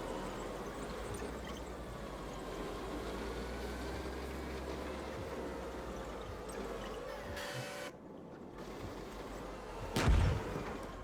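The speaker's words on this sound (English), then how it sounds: "Oh, one of our tanks are engaging." A tank firing during a battle in the PC game Gunner HEAT PC, with an Abrams engaging East German tanks: a steady engine and ambient rumble runs throughout, broken by a single muffled, low boom near the end.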